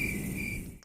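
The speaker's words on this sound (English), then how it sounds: "crickets" Crickets chirping as a comedic sound effect, a brief steady high trill lasting under a second and cutting off abruptly.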